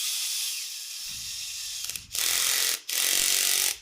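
A screwdriver drives a screw into furniture material until it sits flush, heard as a close, loud ratcheting whir in three bursts separated by brief pauses.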